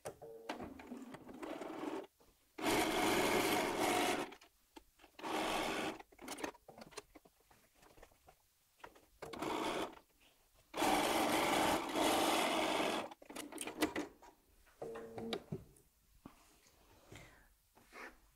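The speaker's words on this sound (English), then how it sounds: "I'm going to sew two dark fabrics either side of my light fabric" Several bursts of sewing machine stitching as jelly roll fabric strips are joined with a quarter-inch seam, loud close runs of rapid needle chatter separated by quieter handling of fabric.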